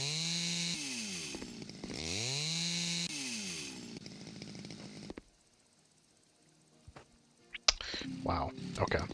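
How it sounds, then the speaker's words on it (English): A chainsaw cuts a log in the video game House Builder: loud, steady revving drones for about five seconds with rising and falling pitch sweeps. Quieter clicks and rustles follow, then a few brief bursts. "Oh, take a chainsaw."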